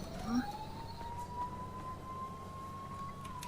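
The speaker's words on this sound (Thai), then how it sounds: "รถตำรวจหรือรถหมอ" A police car or ambulance siren sounds as one steady, slowly rising tone that holds for several seconds, somewhat distant and under a constant wash of traffic and ambient noise.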